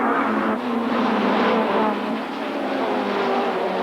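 Touring cars race hard in the 1992 British Touring Car Championship, including a BMW, with loud continuous engine roar held close and steady throughout.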